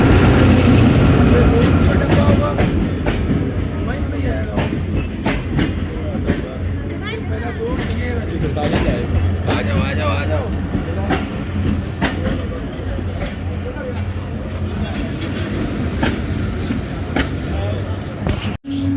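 The Jaffar Express pulls out and runs through foggy winter weather on the line between Attock and Domeli, with a loud, steady rumble and rhythmic clatter of the wheels close by. Voices talk over the noise throughout.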